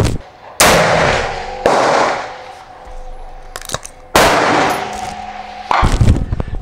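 A Thompson Contender pistol chambered in 7mm International Rimmed fires outdoors, with sharp, very loud reports spaced a second or two apart, each trailing off in a ringing echo, alongside a few fainter clicks and pops.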